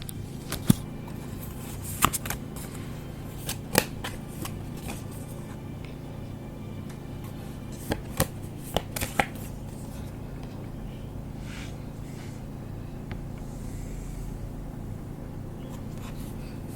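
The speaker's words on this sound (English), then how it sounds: "Let's pull some cards on this." Tarot cards being shuffled and handled at close range, a steady soft riffling texture with a few sharper snaps and taps scattered through the first half, no voice over it.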